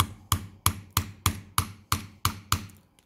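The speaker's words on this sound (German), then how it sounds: "Und dann nehmen wir ein winzig kleines Hämmerchen." Small hammer tapping a part of a Dreyse 1907 pistol during conservation work: nine evenly spaced, sharp metallic taps at a steady rhythm, close and clear with no talk.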